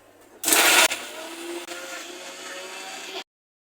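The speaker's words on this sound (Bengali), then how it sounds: "এই যে এগুলো ব্লেন্ডার করি" An electric blender grinds onion and spices: a loud burst of whirring motor that settles into a steady, slightly lower grinding drone for about three seconds, then cuts off abruptly into silence.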